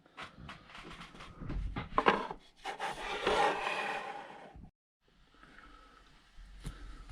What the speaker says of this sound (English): started getting a little sanding done on them.